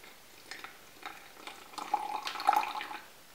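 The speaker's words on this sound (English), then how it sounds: "I'm now going to pour some of it in before it sets on me." Melted candle wax poured into a mould, a soft, brief liquid trickle and splatter that builds over a few seconds, close and fairly quiet.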